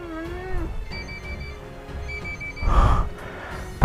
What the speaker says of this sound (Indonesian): Tuh telepon dari siapa?